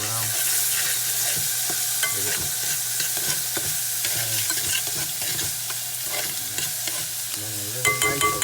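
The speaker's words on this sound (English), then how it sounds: "Stir it around." Garlic sizzles steadily in oil in a frying pan while a utensil stirs it around, making repeated scraping clicks over a loud, continuous frying hiss, with no talking.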